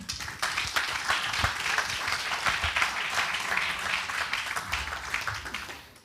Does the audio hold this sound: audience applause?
yes